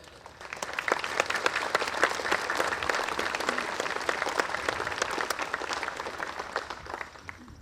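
An audience at a St Marys, Ohio Memorial Day service claps for the band and speakers, a steady, fairly close burst of many hands that swells quickly and tapers off near the end.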